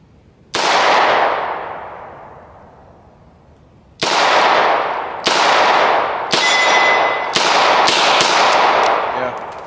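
Taurus 692 Tracker revolver firing 9mm in single action at a range: six loud, sharp gunshots, one early then five spaced closer in a steady rapid cadence, each with a long ringing decay outdoors.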